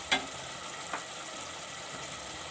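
Aloo keema with whole spices sizzles faintly in a pan, a steady soft frying hiss with an occasional light clink near the start.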